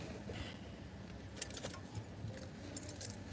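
Keys jangling close by in a few short metallic shakes and rattles over quiet room noise, with faint road traffic in the background.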